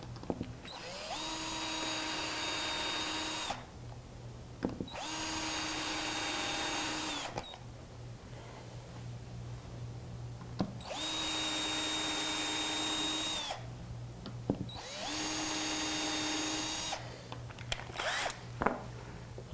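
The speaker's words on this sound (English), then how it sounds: "Now we can take our Vicks bit and pre-drill our holes." A power drill with a Vix bit pre-drills screw holes for mounting brackets on a cabinet door fitted with a Blum Aventos HF bi-fold lift system, running in four steady high-pitched bursts of about two to three seconds each, separated by short pauses.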